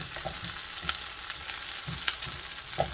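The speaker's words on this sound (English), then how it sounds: "So we'll just cook this onion, and it smells really delicious." Onion fries in a pan with a steady, close sizzle hissing throughout, broken by a few soft clicks and scrapes of stirring.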